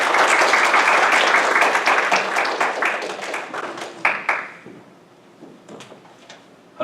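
A church congregation at a Sunday service claps to welcome a pastor, dense crackling applause from many hands that thins out and fades over a few seconds into near quiet.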